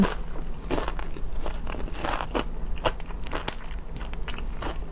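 Crunchy crispy pork cracklings being bitten and chewed up close, a run of sharp crackling crunches spread through the clip, with one brief bright click, over a faint steady background hum.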